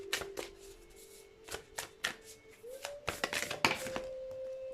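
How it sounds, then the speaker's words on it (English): Tarot cards drawn from the deck during a card reading, with quick riffling and snapping bursts, scattered crisp flicks and a faint tone in the background, close and fairly quiet, no talk. "So let's get some additional cards."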